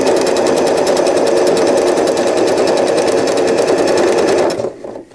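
A sewing machine runs steadily at close range, stitching elastic onto a fitted crib sheet with a continuous loud whir. The motor winds down and stops just before the end.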